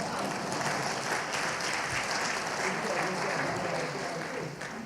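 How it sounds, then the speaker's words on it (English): Steady applause from a conference audience welcoming a speaker, dense and sustained for the full length with no pauses, fairly loud and close. "Give this man a round of applause."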